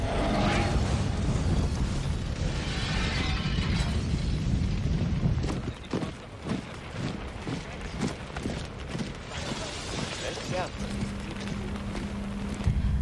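Bomb explosions over burning Rotterdam in archival war footage: a loud, continuous roaring rumble, then a series of sharp repeated blasts and crackles, with a low droning tone near the end.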